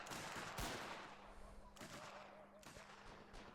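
A Rorke's Drift battle in a video game, with many bots firing at once: dense bursts of gunfire crack and rattle at varying distances, overlapping continuously with a few louder nearby shots.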